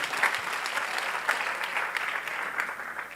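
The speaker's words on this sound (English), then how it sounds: "let's give a hand clap for all of our volunteers" Steady applause from a crowd at an awards ceremony, a dense wash of clapping that holds at an even level for a few seconds.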